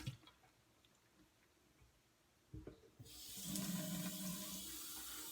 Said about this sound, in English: What I'm doing is getting the brush wet here.